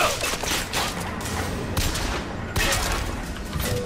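Pistol gunfire in a video game wave battle, with dense rapid shots and blasts overlapping continuously in a loud, chaotic barrage.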